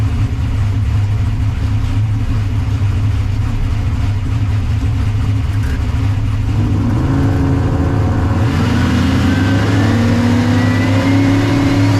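Car engine fitted with a Circle D torque converter revving loudly, a steady heavy drone that climbs in pitch toward the end as the revs rise, close and continuous with no voices.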